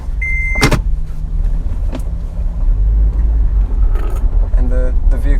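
An off-road vehicle with a 4-liter V6 and a transmission rumbles along at low engine speed, with some short mechanical clicks and whirs from inside the cabin and brief bits of someone talking.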